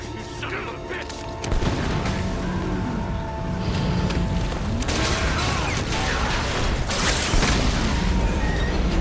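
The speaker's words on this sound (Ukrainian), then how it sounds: "торпеда, яку зачепив Дрейк, неймовірно вчасно вибухає та створює драматичний момент" An underwater torpedo explosion in the action-adventure game Uncharted: Drake's Fortune, a sudden loud boom that opens into a sustained, dense rumble and crashing wash, followed by further heavy bursts and debris noise.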